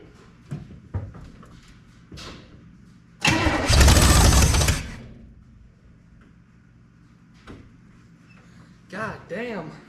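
A 1962 Chevrolet Impala hardtop engine sputters briefly on choke spray fed into the carburetor, one loud close burst of roughly a second and a half amid quiet clatter, with voices before and after.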